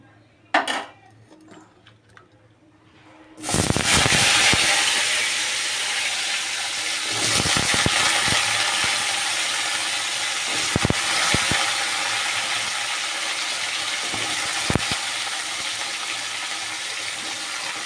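Potatoes drop into a hot kadai with fried cumin and bay leaf, setting off a loud steady sizzle that runs on after a brief clatter, with occasional sharp clinks of a utensil against the pan.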